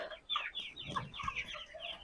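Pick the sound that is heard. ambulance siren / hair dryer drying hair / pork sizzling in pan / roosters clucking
roosters clucking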